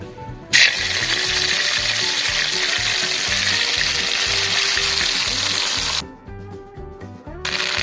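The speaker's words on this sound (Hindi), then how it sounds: "हम सबसे पहले इसमें डालेंगे अदरक और लहसुन का पेस्ट" Loud, steady sizzle of ginger-garlic paste frying in hot ghee, starting abruptly with a splash and hissing continuously, with faint stirring clinks underneath, then cutting down near the end.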